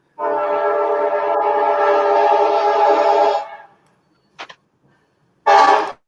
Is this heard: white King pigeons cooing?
no